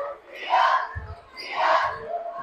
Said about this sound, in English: Anderson student section is going crazy